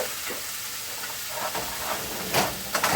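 Onions cooking in a hot pan for a bacon Swiss mushroom burger, a steady close sizzle and hiss with a few louder crackling spurts toward the end, no voices over it.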